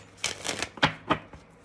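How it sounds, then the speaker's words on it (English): A deck of oracle cards being shuffled by hand, with a run of crisp, irregular riffling snaps and flutters over under two seconds, close and moderately loud with no talk. "They said shuffle, so I'm going to shuffle."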